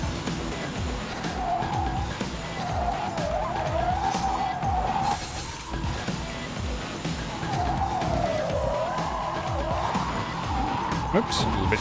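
A car's tyres squeal in a long wavering skid from the handbrake in the racing video game Blur, with a loud engine roar underneath and someone talking over it.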